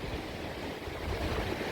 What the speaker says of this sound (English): You can see the ocean behind me here.